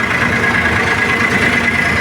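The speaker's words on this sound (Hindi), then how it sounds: "अभी ट्रैक्टर ने रेस दिया" A tractor engine races with a loud, steady, low rumble and no clear rise or fall in pitch, heard up close and without speech.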